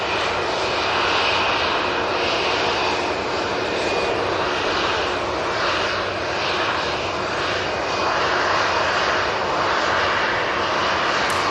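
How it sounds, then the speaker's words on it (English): An EasyJet airliner rolls out and takes off for Skiathos using the full runway, its jet engines a steady, loud roar with a thin whine on top, sustained throughout and heard alone. "The EasyJet to Skiathos is now coming on behind."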